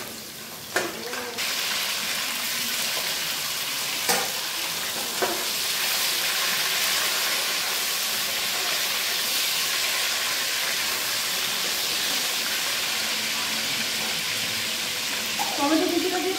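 Crushed garlic goes into hot tempering oil for a Bengali dish and fries with a steady, dense sizzle, punctuated by a few sharp stirring knocks, with a brief stronger spurt near the end.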